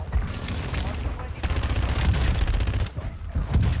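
Rapid automatic gunfire in the video game Call of Duty Warzone, loud bursts of shots crackling almost continuously with brief gaps, and a player's voice talking over the shooting.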